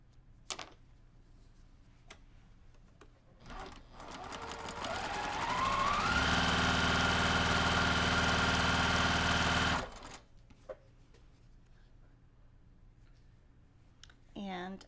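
A sewing machine stitches quilting fabric in a sustained, steady whir of rapid needle strokes lasting a few seconds, with quieter handling sounds before and after.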